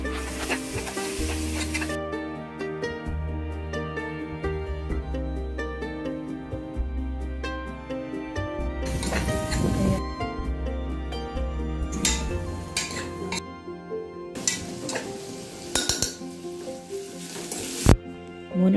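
Onions sizzle and fry in ghee and oil, with a spoon stirring and scraping against the pan several times.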